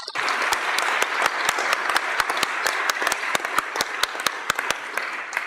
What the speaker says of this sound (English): just one more round of applause to our amazing graduates